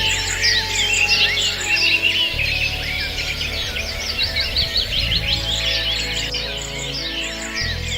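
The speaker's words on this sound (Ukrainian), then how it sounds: "Так, це спів пташок." Many small songbirds sing and chirp together in a dense, continuous high chorus, loud and steady throughout with a low hum underneath.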